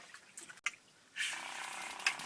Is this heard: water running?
yes